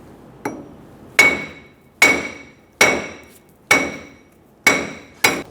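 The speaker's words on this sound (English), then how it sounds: "We're going to use a hammer and hit the back of the hub" Sharp metallic hammer blows strike the back of a wheel hub on a 2014-2018 Chevrolet Silverado, about six strikes spaced roughly a second apart, loud and close with a brief clanging ring after each.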